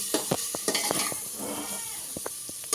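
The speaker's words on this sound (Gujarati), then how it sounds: "હવે એકવાર પાછા મસાલાનો ચમચો ફેરવી દો, ગ્રેવીને હલાવી દો." A spoon stirs masala gravy cooking for khichdi in a pan, with irregular scraping clinks and taps over a soft, steady sizzle, close by and without talk.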